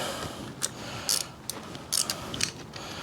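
The carburetor is being pulled off a swap meet chopper motorcycle: quiet, scattered metallic clicks and ratchet-like taps come in short bursts at close range.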